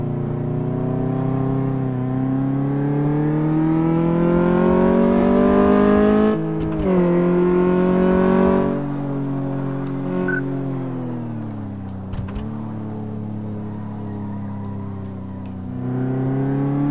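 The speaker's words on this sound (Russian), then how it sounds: "Тяжело как-то машина едет." Car engine droning steadily on a test drive in the game Car Mechanic Simulator, loud and close, with pitch rising through revs, dipping briefly at gear changes and climbing again, with no talk.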